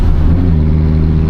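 A car engine pulls hard while driving, a loud, close, low rumbling drone with a rising harmonic whine as it accelerates, no voices.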